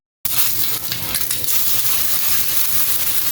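A batch of vegetables for a curry, including green banana, potato, eggplant, tomato, okra and pointed gourd, hits a hot pan and bursts into a loud, steady sizzle with stirring scrapes, close up and without talk.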